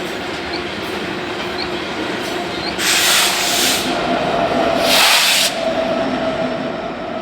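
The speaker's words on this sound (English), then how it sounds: "the generating station continues to operate and receives these trains of Powder River Basin coal just about every day" A BNSF coal train loaded with Powder River Basin coal rolls past on a busy main line, its steady clickety-clack of wheels on rail swelling in two loud bursts over a continuous rumble, with no voices.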